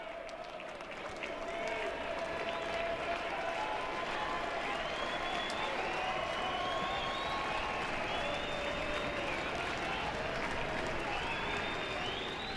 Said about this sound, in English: The crowd encouraging Guidry.